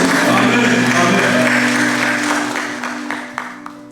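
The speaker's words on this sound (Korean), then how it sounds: "우리 영광 받으신 하나님 아버지께 영광의 박수 올려드립니다." A church congregation applauds together in a sustained wash of clapping that gradually thins out, while a sustained organ or keyboard chord hums beneath it and a few last claps ring out at the end.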